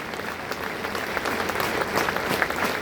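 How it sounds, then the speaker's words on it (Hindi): A crowd at a farewell parade ceremony for a Haryana Police officer gives a standing ovation, with loud, sustained applause that swells toward the end. "सभी उपस्थित गणों से मेरा आग्रह कि वो खड़े होकर जोरदार तालियों के साथ अभिनंदन में स्वागत कीजिएगा"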